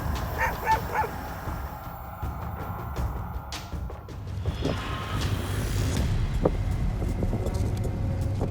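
A pack of dogs barks and yips at a bear outdoors, with sharp barks and whimpers scattered over a steady rumble of background noise, moderately loud throughout.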